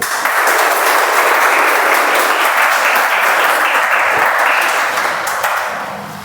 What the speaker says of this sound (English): So give a big round of applause to our trustable, dependable friend, Toastmaster Revati.